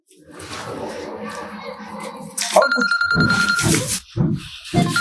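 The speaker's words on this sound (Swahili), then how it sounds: "simu yako." A phone rings with repeated electronic tones in a steady pattern, loud and near, following murmured background voices, with speech breaking in between the rings.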